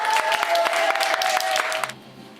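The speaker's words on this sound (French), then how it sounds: "Applaudissements." An audience claps at the opening of a Jades d'Or awards ceremony, with dense, steady applause and a sustained tone underneath that cuts off sharply after about two seconds, leaving a low hum.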